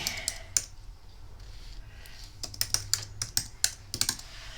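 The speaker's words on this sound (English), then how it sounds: "I'm just going to type in" Someone types on a desktop computer keyboard, producing quick, fairly close clicking keystrokes that speed up into a steady run of taps partway through, with no voices present.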